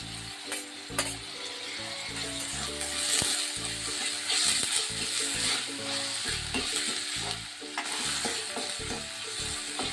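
Tomato sautéing with browned onion in a pan, a steady close sizzle broken by frequent scraping and clinking of a spoon stirring against the metal.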